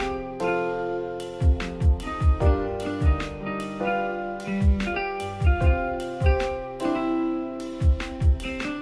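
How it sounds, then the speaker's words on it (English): A drum groove with steady kick hits and a bright ride cymbal bell pinging on the upbeats, repeating evenly throughout. "Something else you'll notice is that the ride bell occurs on the upbeats."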